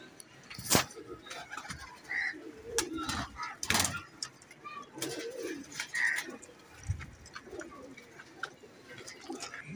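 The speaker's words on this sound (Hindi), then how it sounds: "जो कबूतर उन्होंने अपने दोस्त से लिए थे" Pigeons coo softly at close range, several low rounded calls scattered among clatter and knocks from a loft, while someone talks intermittently nearby.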